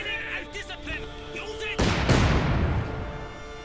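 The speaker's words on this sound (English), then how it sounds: "Mortar rounds going in left and right." Mortar rounds burst in a Company of Heroes 2 battle: a sharp, loud explosion erupts midway and rumbles away, after softer battlefield clatter and tonal game sounds.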